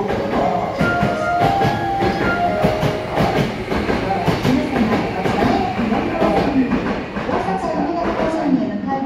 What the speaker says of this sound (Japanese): ご覧の到着の電車は快速急行